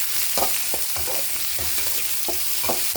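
Carrots, green chillies, salt, turmeric, coriander and curry leaves frying together in a pan for potato kurma, a continuous loud sizzle with quick rhythmic stirring scrapes, close up and without voices.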